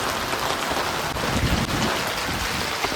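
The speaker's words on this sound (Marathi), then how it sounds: "ज्या पावसाची आपण वाट पाहत होतो आतुरतेने, तो पाऊस पूर्ण आता हे भरून टाकते वसई विरार आपलं" Steady, heavy monsoon rain pours down in Vasai-Virar in a dense, continuous hiss that stays loud from start to finish.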